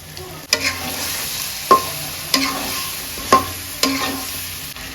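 Spices for quail dum biryani being stir-fried in a pan, with a steady low sizzle broken by about five sharp scrapes and clacks of the spoon at irregular intervals, close and fairly loud.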